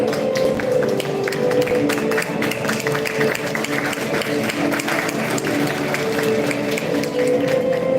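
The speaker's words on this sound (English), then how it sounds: "Okay, please have a round of applause for the winners." An audience at an International Women's Day celebration at Lloyd Institutions applauds the competition winners with steady, dense clapping that fills the room, mixed with a low murmur of crowd noise and no clear talk.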